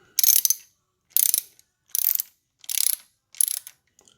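Five quick bursts of a ratchet snugging the oil filter cover bolts on a Honda CRF450R dirt bike, each burst a short run of sharp clicks, evenly spaced and close, with no talk.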